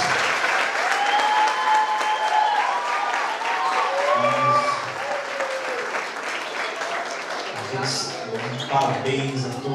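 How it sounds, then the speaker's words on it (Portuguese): An audience at a children's church presentation gives sustained, steady applause, the dense clapping continuing throughout, with some voices mixed in. "Você pode dar uma salva de palmas para todos?"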